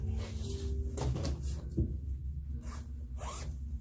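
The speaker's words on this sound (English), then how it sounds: "unzip her, turn her inside out" The zipper of an Angel Secret P075 vest is pulled open in a few quick rasping strokes, close by, with fabric rustling between the pulls and no talk.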